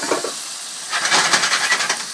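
Rinsed mussels tumble into a hot pan with a brief clatter, then a close burst of sizzling and hissing steam that flares and flutters for about a second before settling.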